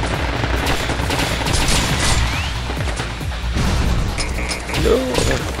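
Dense gunfire rattles at aerial units in the video game Binary Domain, loud continuous bursts mixed with mechanical clatter and impacts, while a voice briefly speaks over the action.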